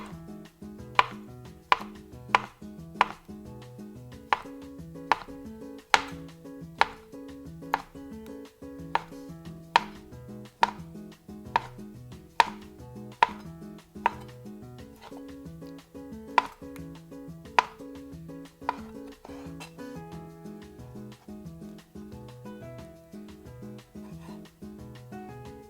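A knife slicing konnyaku thinly on a cutting board, crisp sharp taps at a steady, even pace over a faint background hum, close and clear, with the cuts thinning out near the end.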